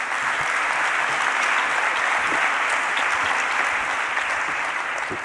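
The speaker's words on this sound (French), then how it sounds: "On peut l'applaudir, s'il vous plaît." Steady audience applause at an award ceremony for a regional prize, dense and continuous clapping filling the room at full level throughout without pause.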